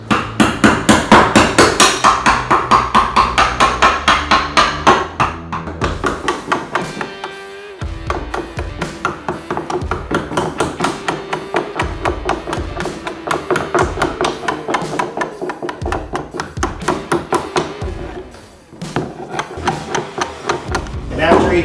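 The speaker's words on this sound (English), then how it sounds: "you can hammer down a whole entire row and clear these things out" Rapid, steady hammer blows, loud and close, striking in quick runs with only brief pauses between bursts, hammering down floor staples in luan underlayment.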